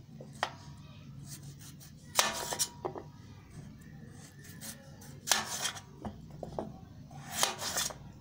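A knife slices the sides off peeled potatoes on a cutting board, making several sharp, crisp scraping chops in small clusters, close and moderately loud over quiet kitchen background.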